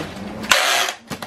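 Packing tape is pulled off the roll while barrels are packed for shipping to Jamaica, a short close rasping screech lasting under half a second followed by a softer tug.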